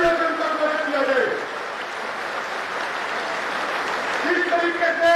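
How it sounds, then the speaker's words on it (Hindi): Crowd applause at an outdoor farmers' rally in Kharkhauda, Haryana, a broad wash of clapping that swells and holds for several seconds, with a voice talking over its start and end. "एक बार जोरदार तालियों से उनका स्वागत किया जाए।"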